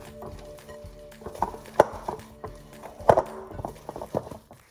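A spoon stirs thick keto bread dough made with wheat in a bowl, giving irregular close-up scrapes and knocks that come in bursts, some louder than others. No voice is heard.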